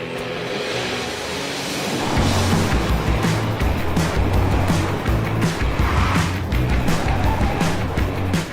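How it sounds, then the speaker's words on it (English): An all-new 2022 Honda Civic e:HEV hybrid with a 2-litre direct-injection petrol engine and electric motors driving around a race track in sunny Spain: a steady, fairly loud engine and road roar that swells after a quieter start, with no talk. "take this all-new Honda Civic out for a spin around this beautiful"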